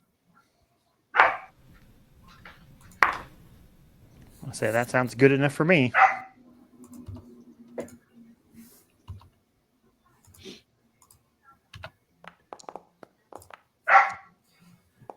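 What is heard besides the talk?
dog barking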